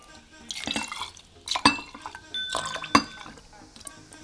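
Rum at 50 degrees poured into a glass jar with dried mango and coconut, giving close liquid trickling, drips and a few sharp glass clinks.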